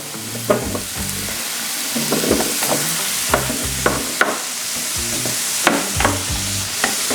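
Potatoes stirred in butter and oil on a Blackstone 22-inch E-Series griddle, with a spatula scraping and tapping in a steady rhythm over a continuous close sizzle, loud and with no voices.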